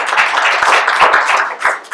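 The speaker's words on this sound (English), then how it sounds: "I'd like to have a round of applause" Audience applause at a local event on running for office, a short burst of clapping that is close and fairly loud, with a brief dip near the end.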